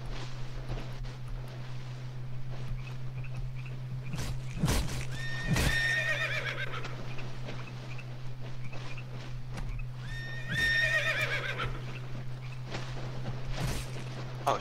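A video game horse whinnies twice, a long neigh each time, over a steady low hum with scattered hoof clops and thuds between.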